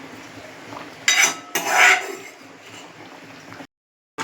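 Fried paneer goes into potatoes in a pan and gets stirred, with a couple of loud, close metallic scrapes and clinks of a spoon against the pan, followed by quieter rustling and a short silence, without talking.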